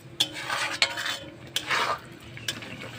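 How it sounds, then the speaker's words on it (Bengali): Spice paste with ground cumin being stirred in oil in a pan for a Bengali taro curry, a metal spoon scraping and knocking against the pan in sharp repeated strokes over a soft frying sizzle. "এবার মশলাটাকে ভালো করে কষে নেব"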